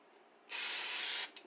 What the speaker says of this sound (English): My waffle iron is now preheated, and I'm going to spray it